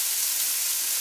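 An onion sizzling in a pan, a steady close hiss of frying with no other sounds, brief and uninterrupted.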